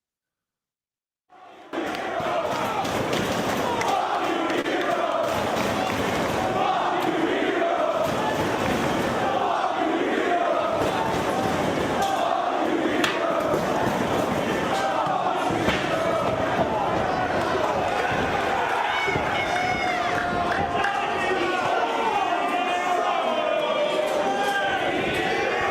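Ring of Honor wrestling crowd roaring hostile heat at Chris Hero's entrance, a dense, continuous wall of jeers and shouting that stays loud and steady throughout.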